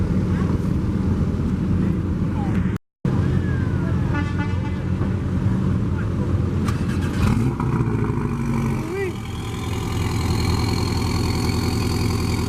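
A turbocharged Porsche 718 Cayman GTS engine at an Atlanta car show hums steadily and close, surrounded by crowd and traffic noise with a brief dropout partway through.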